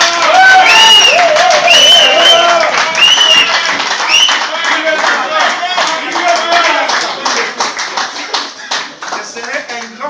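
Dense clapping from a crowd fills a reception hall, loud and continuous at first and then thinning into scattered claps with a few cheers, while people speak over it.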